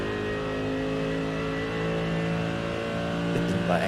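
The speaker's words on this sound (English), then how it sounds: "That engine though has a beautiful sound, isn't it?" A GT race car engine revving, heard on board at Monza. It gives a loud, continuous, harmonically rich drone that holds steady and lifts slightly toward the end.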